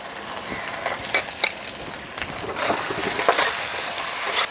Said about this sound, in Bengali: কিছুক্ষণ ভেজে নেব, যতক্ষণ না আদার কাঁচা গন্ধ চলে যাবে ততক্ষণ